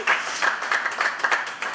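Audience applause for a comedian at a French-language show, a short burst of quick, uneven clapping from a modest crowd, fairly close and steady throughout.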